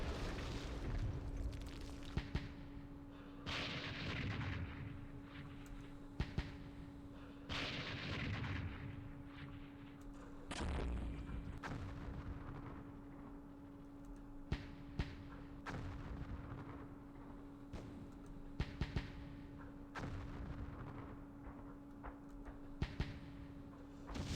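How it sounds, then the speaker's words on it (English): Artillery fire from 120mm guns in the strategy game Campaign Series Vietnam, Dien Bien Phu scenario: several booming reports at irregular intervals, each followed by a rumbling decay, over a steady low hum. "Our 120s are our best artillery piece."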